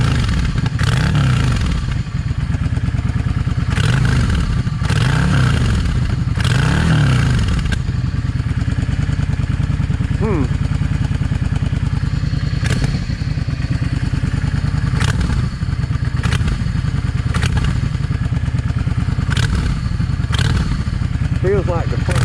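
A Yamaha V Star 650 motorcycle engine runs steadily at close range, a loud continuous throb punctuated by repeated sharp backfire pops and clatter, with someone talking over it.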